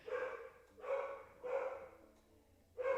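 A dog barks repeatedly, four rough barks in loose rhythm, moderately close, with fainter whining tones between them.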